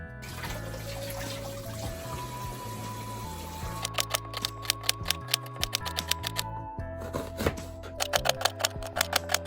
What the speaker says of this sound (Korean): 우선 양파를 자를게요